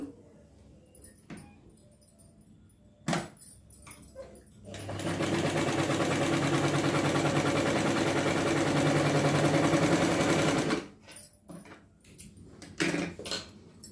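A sewing machine stitches pieces of a 5-6 year old boy's pyjama, running steadily and close for about six seconds, with handling clicks and taps of the fabric before and after.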